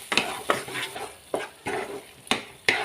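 Masala spices being stirred and fried in a pan while making a Bengali doi mushroom curry, with a soft steady sizzle and several distinct scraping strokes of a spoon against the pan, close up and with no talking.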